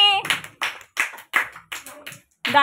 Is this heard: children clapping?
yes